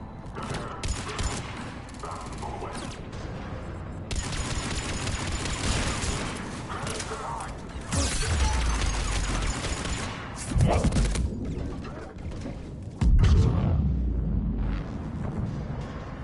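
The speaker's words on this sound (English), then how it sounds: "Those cannons have to be stopped." Video game battle: heavy rapid gunfire and booming cannon blasts roll on continuously, with loud deep impacts and occasional voices mixed into the chaotic din.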